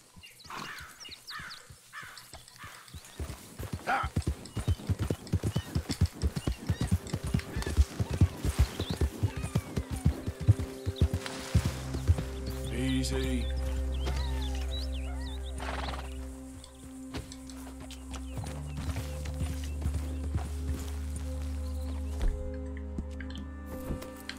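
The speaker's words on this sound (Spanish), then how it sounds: "Es un caballo." Horse hooves in Red Dead Redemption 2, clip-clopping in a quick steady rhythm for several seconds, then giving way to a low rumble with cawing crows and wild animal calls scattered around.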